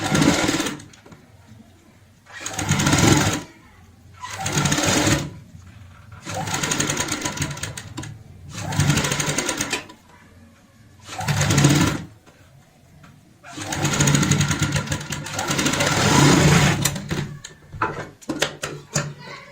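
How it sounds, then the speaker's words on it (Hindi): Sewing machine stitching piping onto a cushion cover in repeated bursts of a second or two, separated by short pauses, close and loud, with the final run lasting longest. "यहाँ पे सिलाई लगा लेंगे"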